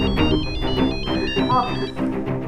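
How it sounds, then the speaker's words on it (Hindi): A telephone rings repeatedly in a household scene from an Indian TV crime drama, its electronic trill cycling steadily at moderate volume beneath other indoor sounds. "किसका फोन है?"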